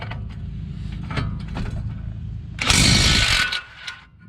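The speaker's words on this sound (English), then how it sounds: "I have a 21 mil here on my impact." A pneumatic impact wrench with a 21 mm socket spins out brake bolts on a 2006-2010 VW Jetta MK5, a sharp loud burst of about a second rising over low garage background and mechanical clicks.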